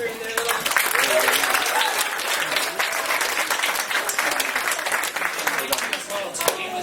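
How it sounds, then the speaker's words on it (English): A crowd at the Java Jive 2016 event gives a round of applause for three performers, a full, steady wash of clapping with some cheering voices mixed in, sustained for several seconds. "let's all give another round of applause for Ethan Johnson, Ethan Gilmanzop, and Ben Lincoln"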